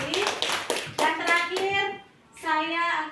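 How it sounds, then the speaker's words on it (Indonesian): A small group claps for Bu Fitri during a teachers' positive-culture session, with brisk, uneven hand claps under overlapping voices before the clapping trails off and talk resumes. "tepuk tangan untuk Bu Fitri"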